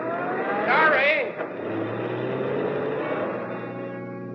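A car engine rises and falls as it drives along in a radio drama, a brief swelling whine early on settling into a steady, quieter motor drone.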